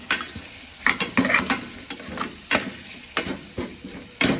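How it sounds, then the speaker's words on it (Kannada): Onions stirred and frying in a pan for tomato rice bath, a steady sizzle with repeated scraping strokes of the spoon, close and fairly loud. "ಈರುಳ್ಳಿ ಕಂದು ಬಣ್ಣಕ್ಕೆ ತಿರುಗಬೇಕು, ಮೀನ್ಸ್ ರೆಡ್ಡಿಶ್ ಆಗಿ. ಫುಲ್ ನೀಟಾಗಿ ಫ್ರೈ ಆಗಬೇಕು."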